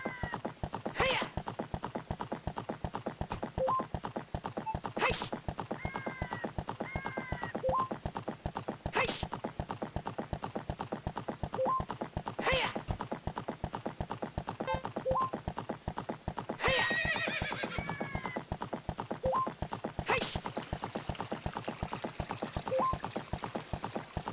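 Epona, the horse in Zelda: Ocarina of Time 3D, gallops with rapid, steady rhythmic hoofbeats throughout, punctuated by several loud whinnies and neighs, game sound with no talk.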